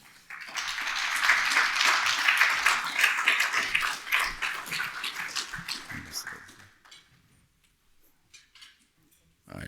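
An audience applauds at an estate planning talk, welcoming the speaker to the podium, a steady wash of clapping for several seconds that fades out, followed by faint shuffling and a voice.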